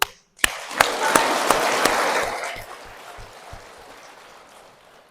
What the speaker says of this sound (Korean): 하와의 후손들 박수.